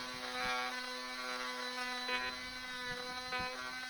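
DeWalt oscillating multi-tool sanding a flat surface, giving a steady high-pitched buzzing whine that holds level throughout with slight scraping variations, close and continuous.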